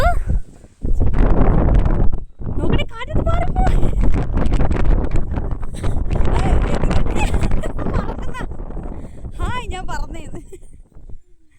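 Strong wind buffets the microphone outdoors in dusty conditions, loud gusty roaring and rustling under almost constant excited talk.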